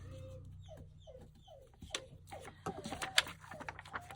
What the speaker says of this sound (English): That darn dog.